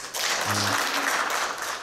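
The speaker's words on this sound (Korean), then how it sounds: "박수 한번 쳐주세요" Audience applause fills the room in a dense, steady burst of clapping, with a short low hum or voice in the background near the start.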